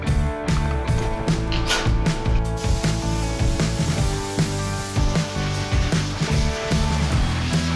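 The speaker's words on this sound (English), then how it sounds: "it's a 2K epoxy primer in an aerosol can" 2K epoxy primer sprayed from an aerosol can onto auto body panels, loud close hissing bursts repeated in short pulses with brief gaps between them.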